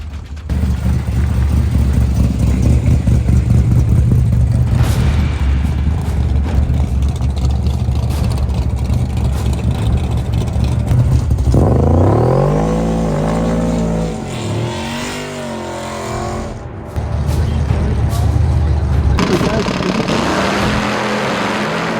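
Nitrous Mustang drag car with a big-block Chevy, about 1000 horsepower, rumbling loudly at the line, then launching with a rising, hard-revving roar through gears before backing off, close and sustained with a second car racing alongside.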